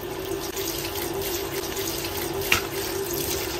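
A kitchen tap runs steadily while an octopus is rinsed and cleaned under it, a soft continuous trickle with one brief splash partway through.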